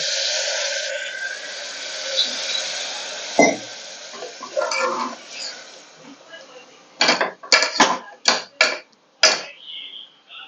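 Water is poured into a dry bombil fish masala in a pan: a soft pouring wash at the start, then a series of sharp clinks and scrapes of utensils against the pot near the end.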